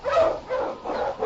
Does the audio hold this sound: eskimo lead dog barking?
yes